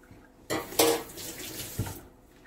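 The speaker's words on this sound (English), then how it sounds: "I'm getting my hands wet, my fingers wet" Water from a kitchen tap splashes over hands being wetted, a close burst of running and splashing that lasts about a second and a half before stopping, with no talking.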